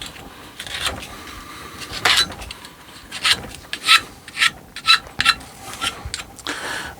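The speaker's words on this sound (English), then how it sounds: "we'll have to scrape it off. So I got this scraper" Metal scraper rasping bark off a bonsai trunk from nursery stock, a series of short dry scraping strokes at close range, some sharper and louder, with no talk.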